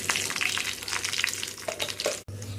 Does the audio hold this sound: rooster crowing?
no